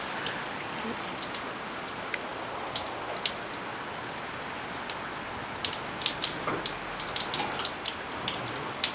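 Steady rain falls outdoors with a constant wash of hiss, sharpened by scattered close drops tapping on a nearby surface, the individual hits growing busier toward the end.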